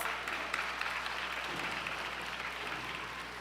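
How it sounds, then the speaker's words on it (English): Quiet, continuous applause from a large gathering at a university new student induction ceremony, a soft even wash of clapping heard from a distance for a few seconds. "let's give them a quick round of applause"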